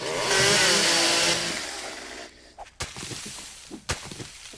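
A chainsaw in the video game 7 Days to Die roars loudly and continuously, then winds down into sporadic sharp bursts and knocks over a quieter background.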